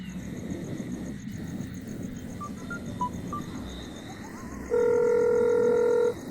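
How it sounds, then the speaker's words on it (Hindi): A few short dialing beeps sound over background noise, followed by a steady ringing tone that holds for about a second and a half. "रुक मैं उसे फोन करता हूँ।"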